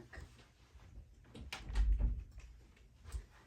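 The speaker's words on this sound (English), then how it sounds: "I'm going to lean over and close my door real quick." A door swings and shuts nearby with a muffled thump, preceded by brief rustling and handling noises.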